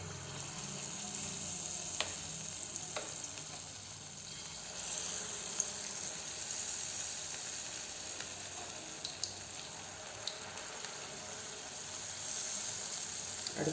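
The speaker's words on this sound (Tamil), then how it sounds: "அதுக்கப்புறம் நம்ம எண்ணெயில் பொரித்து எடுத்துக்கலாம்." Appam batter for a Karthigai Deepam festival batch fries in hot oil, giving a steady, close sizzle that holds throughout with a few faint clicks and no talking.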